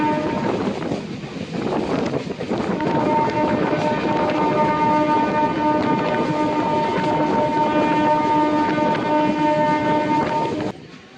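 A Panskura–Digha electric local train runs near Tamluk Junction with a loud steady rumble and clatter of the carriages, and a long sustained horn sounding over it before the noise drops at the end.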